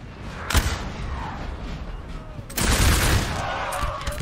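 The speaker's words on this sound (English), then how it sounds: "light infantry forming up right behind them to give them support as they are going to start exchanging volleys along this line with Yuzhin first engaging Russia" Musket infantry volleys in the Napoleon Total War video game, with light infantry exchanging fire along a line. Two sharp crackling volleys stand out over a steady rumbling battle din.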